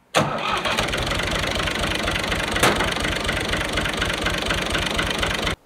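A UTB 445 tractor's engine cranks and fires up, then settles into a loud, steady, close knocking idle with a regular pulsing rhythm and no voices.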